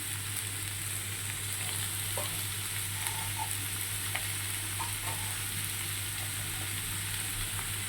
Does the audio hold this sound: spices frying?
yes